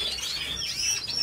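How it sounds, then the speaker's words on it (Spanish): Songbirds kept for their singing timbre chirp in short, bright, overlapping tweets and whistles, close and fairly loud, with no voices. "Nos basamos en que los pájaros tengan buenos timbres"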